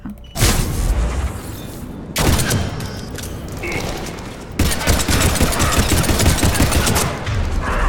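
Sustained gunfire from Mass Effect 3's Citadel DLC aimed at the player, loud dense bursts of shots in three long volleys with brief breaks between them, no talking over it.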